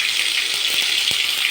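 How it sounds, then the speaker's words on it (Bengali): Tomatoes go into hot oil tempered with cumin for a Bengali fish curry, giving a loud, close, continuous sizzle with a few faint stirring knocks underneath. "তেল গরম হয়ে গেছে। তারপরে এই যে টমেটো দিয়ে দিলাম"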